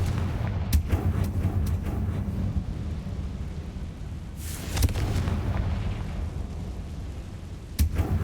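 Confringo fire-blast spell explosions in the Hogwarts Legacy video game, a loud, rumbling roar of booms and crackling blasts that keeps going, with sharper bursts near the start, middle and end.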